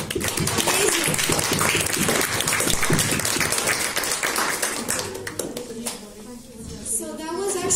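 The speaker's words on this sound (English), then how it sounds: "Please, give her an applause." An audience on a Serbian TV quiz show applauds a contestant. Loud, dense clapping carries under an enthusiastic voice, then thins out and fades toward the end as the speech continues.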